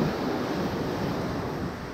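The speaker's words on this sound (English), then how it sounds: "the waves were a little bit tricky getting in here" Ocean surf breaking on a beach shore, a dense continuous roar of waves with wind noise on the microphone, loud and close, no voices.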